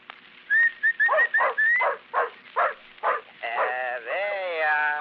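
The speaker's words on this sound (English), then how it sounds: "That's a good dog. That's a fine dog." A dog barks in a run of sharp, evenly spaced yips, then breaks into a long, wavering whimper and whine near the end, loud and close with no talk over it.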